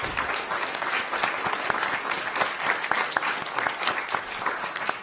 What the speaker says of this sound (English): let's do another huge round of applause for all of our panelists that are here this evening